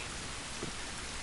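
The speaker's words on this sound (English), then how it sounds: "that just sounds like such beautiful rain" Steady rain in The Last of Us, a dense even wash of falling water, heard alone at moderate level for a short moment.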